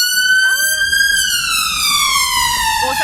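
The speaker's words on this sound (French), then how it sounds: "c'était l'emergency, c'était l'ambulance anglaise" A British ambulance siren wails loudly through a London street in Camden, its rising and falling tone sweeping steadily and sliding lower as it passes close by, over a bed of traffic rumble.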